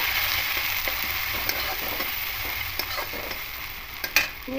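Banana flower curry with cumin, chilli and turmeric powder is stirred in a hot pan, a constant sizzle under close, rhythmic scrapes of a spatula.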